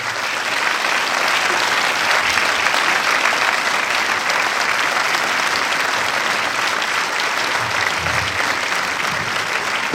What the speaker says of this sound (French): Et je crois qu'il mérite vraiment vos applaudissements